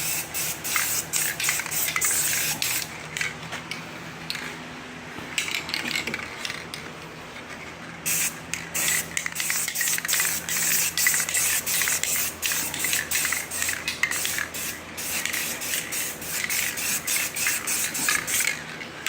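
Rustoleum NeverWet coating is sprayed from an aerosol can onto an ATV in long, loud hissing bursts with brief gaps and can rattles, close by and with nobody talking.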